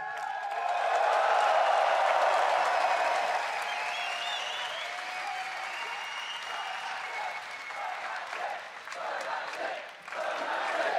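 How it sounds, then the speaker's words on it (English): A big esports arena crowd roars and applauds after Fnatic's win over EDG in Game 3 of the 2015 League of Legends World Championship quarterfinal, loud at first, then settling into a long, sustained wash of clapping and cheers. "The cheering will go on and on."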